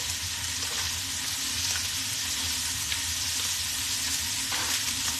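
Beef cheek browning in a frying pan, a continuous loud sizzle with occasional stirring scrapes, close and steady without speech.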